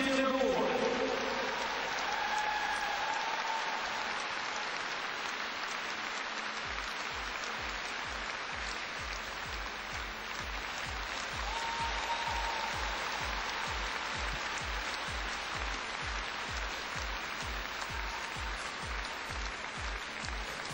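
Audience applause at a Russian national figure skating championship after a free skate, a long, even wash of clapping that fills the arena and turns into rhythmic clapping, with a commentator's voice faintly over it.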